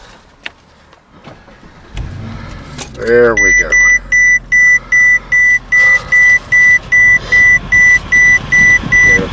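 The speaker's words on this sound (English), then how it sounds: "we're going to go ahead and start the car here" A 2008 Mercedes-Benz CL63 AMG with its V8 engine cranking, catching and settling into a loud, steady idle, a repeating chime beeping over it, and someone speaking briefly.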